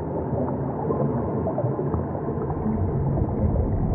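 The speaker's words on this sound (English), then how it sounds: "Whale shark." Low, murky underwater rumble with soft gurgling tones, steady and continuous throughout, presented as the sound of a whale shark in the sea, with no talk over it.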